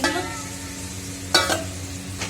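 Potatoes frying in a pan on a home stove, a steady close sizzle with a few sharp clinks of stirring partway through.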